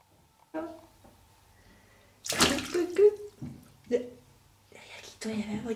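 Water splashes in a bathtub as a three-month-old baby is bathed, short bursts of sloshing broken by pauses, with someone speaking softly nearby.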